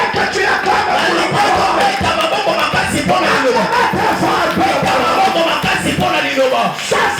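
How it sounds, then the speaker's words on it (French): A church congregation at a thanksgiving service cheers loudly, a dense, sustained crowd roar of shouts and acclaim that stays strong for several seconds, close and energetic. "Est-ce que tu peux acclamer très fort?"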